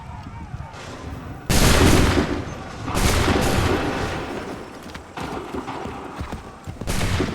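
Musket volleys in the game Assassin's Creed III, several loud bursts of massed gunfire in uneven bursts with rumbling echo, close and heavy, with shouted voices in between.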